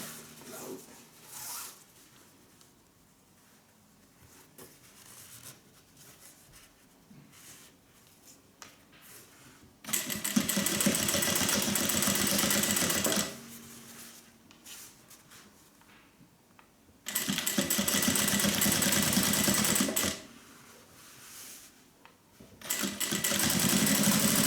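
A sewing machine stitches the foam-free side of a unisex sling bag in three long, loud bursts of rapid whirring. Quiet pauses with faint handling noises separate the bursts.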